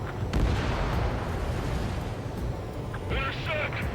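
Anti-aircraft fire and explosions rumble through an Ace Combat 7 air battle, a dense, continuous low roar of distant blasts with a few sharper pops and a brief burst of electronic warning tones near the end.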